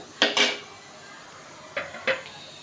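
Raw banana pieces fry in a pan as a utensil scrapes and knocks against the metal in four short bursts, two close together near the start and two more after a quiet pause, with no talking.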